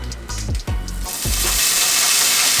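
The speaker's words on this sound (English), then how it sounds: "I can lay the turkey bacon down on one side and pancakes on the other" Turkey bacon and pancakes sizzle loudly on a hot griddle, a dense, steady frying hiss that swells in the second half after a few low thumps at the start.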